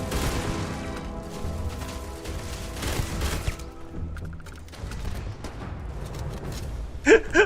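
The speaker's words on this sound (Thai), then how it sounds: "โอ้ยยิงจากไหนนั้นเยอะแยะ" Gunfire in the sci-fi video game Starfield, dense overlapping shots and blasts running through most of the stretch, with quieter gaps and a sharp burst near the end.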